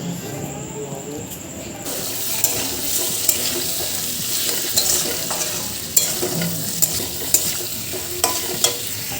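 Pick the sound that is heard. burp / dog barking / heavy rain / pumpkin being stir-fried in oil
pumpkin being stir-fried in oil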